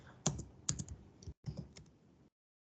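Fingers type on a computer keyboard while entering SQL Server code, with a short run of quiet close-up key clicks, a brief pause, then a few more taps before silence.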